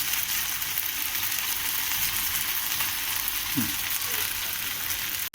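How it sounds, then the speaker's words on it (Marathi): Aloo poha cutlets shallow-frying in a pan, a close, steady sizzle and crackle of hot oil that runs unbroken throughout, with a faint scrape partway through and no talk. "आणि छानपैकी आपल्याला एका बाजूने असे खरपूस असे भाजून घ्यायचे आहेत"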